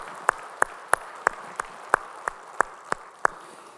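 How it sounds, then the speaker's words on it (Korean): A church congregation at Sunday worship claps in unison, about ten sharp, evenly spaced claps in a steady rhythm, moderately loud in a reverberant hall. "우리 찬양 박수 주님께 영광의 박수 올리겠습니다"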